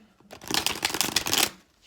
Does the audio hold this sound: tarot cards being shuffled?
yes